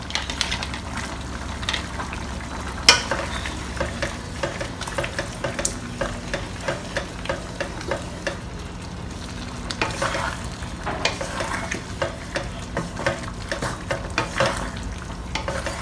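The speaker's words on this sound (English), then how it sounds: "this is our version of stir-fried potato with mincemeat" Potatoes and minced pork stir-fried in a pan, a soft continuous sizzle punctuated by repeated scraping strokes of a spatula in an uneven rhythm, with one louder knock early on, close and moderately loud with no talking.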